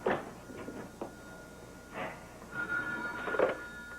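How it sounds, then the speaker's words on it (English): A telephone rings indoors, several short electronic bell bursts in an uneven sequence, fairly quiet and near, with faint room noise between the rings. "Oh, there's the phone."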